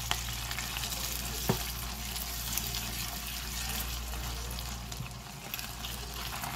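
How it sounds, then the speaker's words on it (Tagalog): Chicken pastil frying and being stirred in a pan, with a steady close sizzle, a sharp utensil knock near the start and light scraping throughout, no voices. "Saka lang imimikos-mikos para maghalo sa ating nilulutong chicken pastel."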